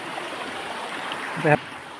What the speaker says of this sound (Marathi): नदी बघू शकता, एक नंबर नदी आहे।